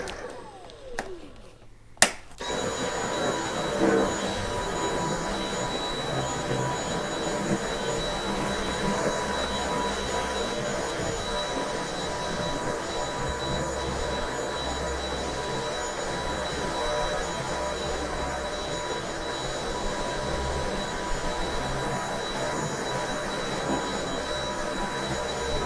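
A Dyson V8 Absolute cordless vacuum cleaner switches on after a brief click and runs with a steady, high-pitched motor whine and airy roar, close and continuous for the rest of the stretch.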